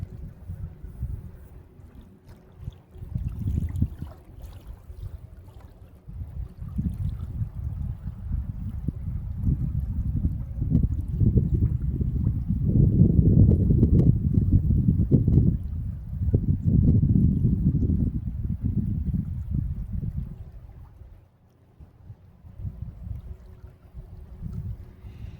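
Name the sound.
john boat approaching on the water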